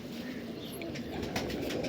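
Black-winged pigeons coo steadily in a close, continuous murmur, with a faint chirp or flutter in the background and no talking.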